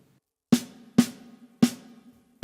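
Four separate left-hand snare hits from a jazz drum pattern on a kit, played alone in an uneven rhythm, each sharp crack followed by a short ringing decay, close-up.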